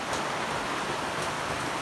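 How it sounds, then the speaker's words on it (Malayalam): Heavy rain falls outside as a steady, broad hiss of water with no gaps. It is moderately loud and heard alone, with no voices over it. "മഴ പെയ്യുന്നത് കാണാല്ലേ നിങ്ങൾക്ക്?"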